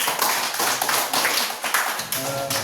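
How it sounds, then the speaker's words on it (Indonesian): Children in a classroom clap their hands together, a dense, steady patter of many small palms lasting a few seconds, fairly close and alone without talk. "adik-adik semua tepuk tangan dulu"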